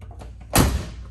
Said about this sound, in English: Door shut nicely.